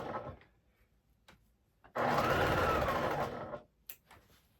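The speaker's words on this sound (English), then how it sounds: "It helps me with this particular sewing machine." A sewing machine stitches quilt pieces, running steadily for about two seconds with a loud, continuous mechanical whir, bracketed by quieter handling noises and a few soft clicks.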